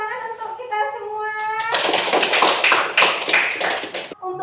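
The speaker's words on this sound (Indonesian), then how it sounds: "tepuk tangan untuk kita semua" A classroom group applauds together during a morning school session, broadband clapping building suddenly and continuing steadily for a couple of seconds before stopping, following a stretch of speech.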